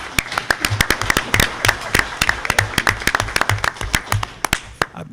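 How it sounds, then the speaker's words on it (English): A school board meeting crowd gives a round of applause for students, a fairly small group clapping with distinct, sharp individual claps in an uneven rhythm that thins out over about five seconds. "How about one more round of applause for all of our great students?"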